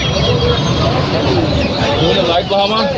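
Light Columbian Brahma chickens cluck at a busy poultry market, their calls mixed into loud crowd babble with people talking close by throughout.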